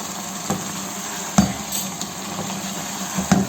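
Chicken kofta curry masala being stirred and mixed in a cooking pot, with a steady sizzling hiss and three sharp spoon knocks against the pot, close by and with no speech.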